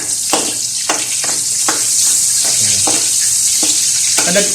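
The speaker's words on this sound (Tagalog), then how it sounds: "Salang na natin to, yung sibuyas. So, pinagprituhan pa rin yan" Onion sautés in oil in a pan while cooking carbonara, a steady loud sizzle with a dense hiss and repeated soft stirring scrapes at a regular pace, with no voices.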